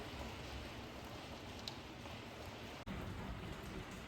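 Steady rain falls on a stone house under renovation in Portugal, making a dense, continuous hiss of drops with one very brief dropout partway through and no voices.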